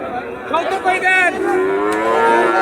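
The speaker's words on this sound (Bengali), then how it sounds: "এই যে মোষের মতন গরু দর্শক" A large, buffalo-like cow lets out a loud, drawn-out moo close by at a cattle market in Joypurhat, rising and wavering over faint background chatter.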